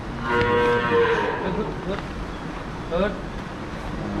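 A young two-toothed cow moos at a cattle farm near a Rajshahi market, one long, loud, close bellow followed by a shorter second low, with ambient farm noise around it.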